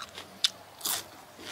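Teeth bite into a fresh sweet pepper in a few quick, close crunches, one sharp snap followed by a wetter crunch, with no talking.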